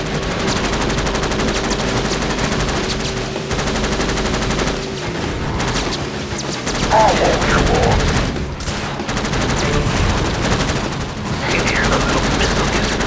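Rapid gunfire peppers a vehicle during a race in Jak X: Combat Racing, a loud, continuous machine-gun rattle layered over the roaring engine and game effects for the whole stretch.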